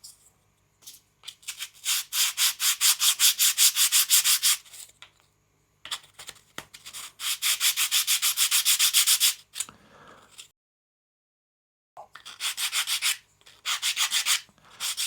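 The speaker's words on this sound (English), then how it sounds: "It's a hard wood, but it's not that hard because the sandpaper takes care of it" Hardwood pocket cross being sanded by hand with sandpaper, close and loud: rapid rhythmic back-and-forth rasping strokes in three long bursts separated by short pauses, with no talking.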